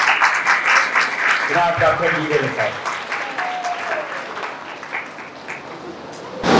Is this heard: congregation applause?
yes